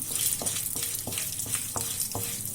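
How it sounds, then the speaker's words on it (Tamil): Urad dal dry-roasting in a pan until golden for brinjal rice, a steady sizzle with a faint high hiss and rhythmic scraping strokes of a spoon about every third of a second, close by with no talking. "உளுந்து போட்டு நல்லா பொன்னிறமாக வர்ற வரைக்கும் வறுத்து எடுத்துக்கலாம்"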